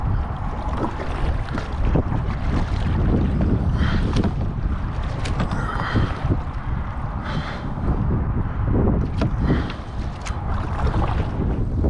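A boat paddled across a rough, windy river while bass fishing, with steady wind buffeting the microphone and choppy water splashing against the hull throughout, interrupted by occasional louder paddle strokes and sloshes.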